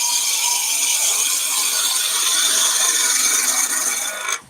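A hand plane takes a finishing cut along timber with the bevel trailing, giving one continuous close, hissing shave that ends abruptly.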